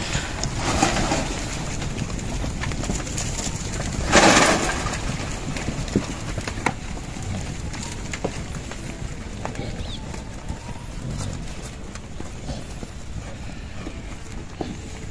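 Cattle hurrying toward feed of pineapple pulp, a steady patter of hooves on the ground with a louder burst partway through, against outdoor background noise.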